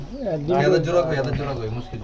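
Soft, low pigeon cooing, a rolling warbling call that carries on steadily, close by.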